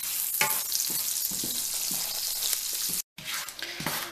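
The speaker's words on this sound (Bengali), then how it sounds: "হালকা একটু ভাজা ভাজা করব।" Chopped nuts and raisins sizzle steadily in a pan for a shahi jorda sweet rice dish, with a bright constant hiss and soft stirring scrapes, briefly cutting out before resuming.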